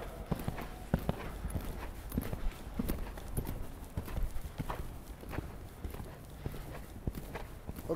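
A horse moves at a gallop in an arena during high-level dressage training, with steady, rhythmic hoof thuds on soft footing, fairly close and continuous, and faint voice sounds in the background.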